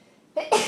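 A single sharp sneeze erupts in a quiet meeting room, preceded by a short breathy intake and a brief murmured word.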